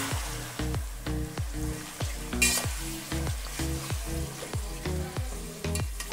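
One kilo of mutton sears over full flame with ginger-garlic paste and shahjeera, giving a loud, close sizzle cut by a regular rhythm of stirring and scraping strokes, roughly two per second, with no talk.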